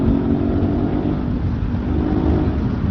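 A motorcycle engine roars steadily on the road, a loud, constant low drone with rushing wind, as if heard from the rider's seat.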